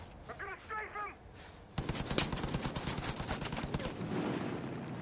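Sustained automatic gunfire in Far Cry 5 as an enemy strafes the player. Brief game sounds open the stretch, then a loud, continuous burst of rapid shots rattles on until the end, with speech faintly present.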